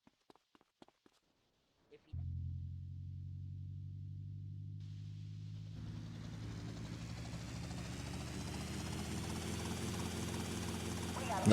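Helicopter in the video game GTA: Vice City starting up after a few faint clicks, a steady low rotor drone that thickens into a fuller whirring roar with added high hiss, with people talking over it.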